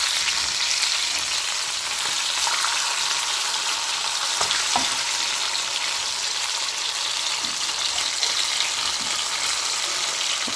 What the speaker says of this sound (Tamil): இப்போ பாருங்கள், நல்லா வெந்துக்கிட்டு மீன் பொரியல்.